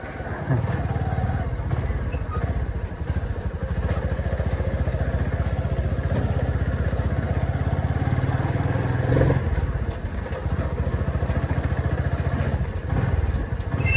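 A motorcycle engine runs steadily close by for the whole stretch, a continuous low rumble with clattering and an occasional thump, on a rough rural road.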